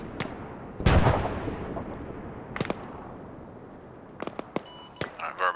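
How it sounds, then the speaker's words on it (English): Mortar rounds in the Arma 3 military shooter: several sharp distant booms and cracks spaced irregularly, one heavier thump early on, followed by scattered fainter impacts. "That's mortars."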